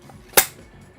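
A Murasama replica sword slid back into its sheath, a single sharp close clack with a quick fading scrape in an otherwise quiet room.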